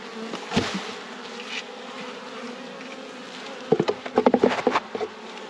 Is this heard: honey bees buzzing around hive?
yes